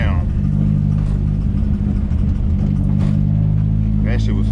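A Nissan S13's engine rumbles and revs hard while drifting on a wet road, a loud, close, continuous drone. Someone talks excitedly over it.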